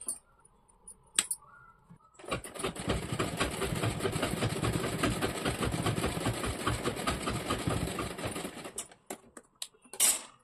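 A sewing machine runs steadily for about seven seconds while stitching a saree, the rapid needle chatter starting abruptly and stopping sharply, with a few faint handling clicks before and after and no talking.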